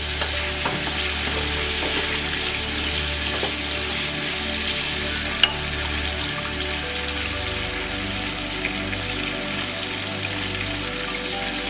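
Potatoes cook in a pan with a steady, even sizzle that runs throughout, with light scraping and stirring and one brief sharp tap near the middle, no voices.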